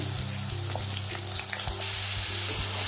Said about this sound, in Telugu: ఇప్పుడైతే ఆయిల్ వేడైంది కదా మనము కట్ చేసుకున్న ఆలుగడ్డ ముక్కలను అయితే అన్నీ వేసేసుకుందాం